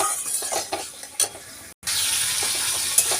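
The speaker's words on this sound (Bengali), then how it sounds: "জল দিয়ে দিয়েছি একটু সামান্য কষিয়ে নেবো" Spice masala sautés in a pan with a little water, a hissing sizzle with a few stirring scrapes, close and steady, briefly dropping out for a moment partway through.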